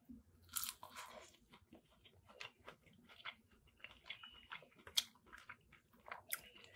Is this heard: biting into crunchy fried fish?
yes